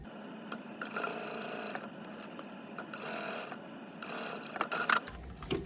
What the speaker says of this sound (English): Base stitch this onto the zipper at like an 1/8, 16th inch.